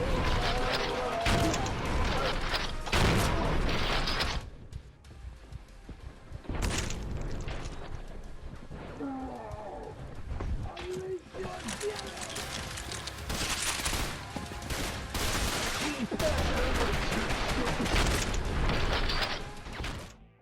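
Sustained gunfire and explosions from the first-person shooter video game Trepang2, dense and loud bursts of shooting with brief lulls, mixed under someone talking over the action.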